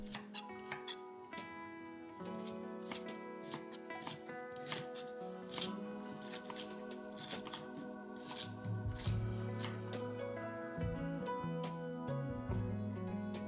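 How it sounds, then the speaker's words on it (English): A knife chops through tough, woody rhubarb stalks on a board in a series of sharp, uneven cuts and crunches, with short pauses between strokes. "I don't know if you can hear my knife struggling in the audio, but it felt more like clearing brush than slicing a vegetable."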